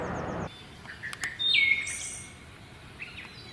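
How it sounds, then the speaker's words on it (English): Breeding birds calling in spring woods, a few short chirps and a clear whistled note standing out against a quiet background, moderately near. "The woods are now filling with breeding birds."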